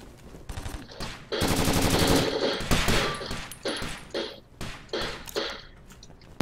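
A loud gun firing in Takedown: Red Sabre, with scattered single shots, then a long sustained burst of rapid fire, then several more short bursts and cracks.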